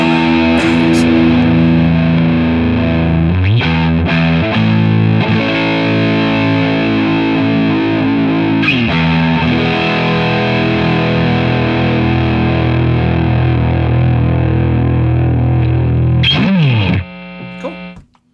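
Neck pickup of an electric guitar played through heavy distortion, loud sustained chords and notes ringing throughout with a few pick scrapes and slides, then cutting off near the end.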